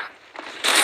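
A brief mechanical weapon reload in the Apex Legends Mobile video game, a quick click followed by a sharp metallic rack, close and short.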